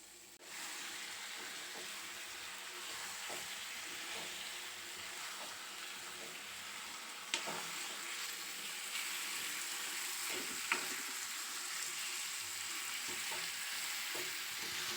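Chicken frying in a pan with turmeric makes a steady, dense sizzle that hisses continuously and evenly, with a few faint clicks of stirring and no talk over it.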